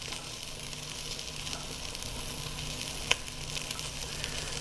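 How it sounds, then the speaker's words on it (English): A roast sears in a small oven pan with a steady, close sizzle that holds even throughout, broken only by one brief sharp click partway through. "the roast is searing up nice"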